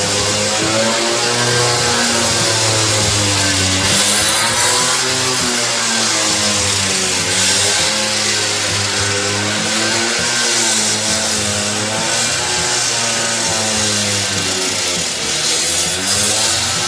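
A power saw cuts up a kitchen floor during renovation, its motor droning loud and close for a long stretch, with the pitch rising and falling as the blade bites into the floor.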